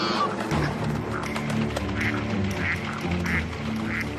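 Wild birds, apparently ducks, sounding alarm calls to one another, repeated loud quacks at a steady rhythm over a busy background of other bird noise.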